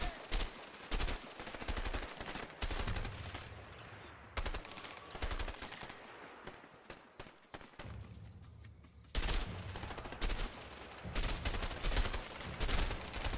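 Bursts of gunfire and automatic shooting from the co-op prison-escape video game A Way Out, loud, clustered volleys with a quieter lull in the middle, no talking.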